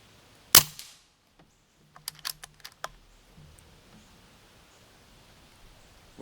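A single sharp crack from an Umarex Origin 25 PCP air rifle firing a pellet rings out near the start, followed by a few light clicks and rattles of handling.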